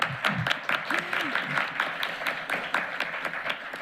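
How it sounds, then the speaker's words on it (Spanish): Seminar audience applauding in a conference room, a sustained wash of clapping with a few louder individual claps, and brief murmuring voices near the start. "podemos agradecerle con un aplauso."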